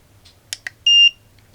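A cheap temperature sensor module set to alarm at 23 degrees gives a few short clicks and then one clear, high electronic beep lasting about a quarter second, close and loud.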